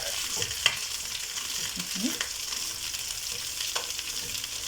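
Sliced onions frying in a pot while being stirred, a soft continuous sizzle with scattered scrapes and clinks of the spoon against the pot, fairly close and moderately quiet, with no talking.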